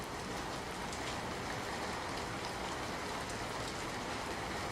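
Heavy monsoon rain pours down in Surat during a prolonged downpour that flooded the city, a dense, steady broadband hiss of falling water, loud and continuous throughout with no voices.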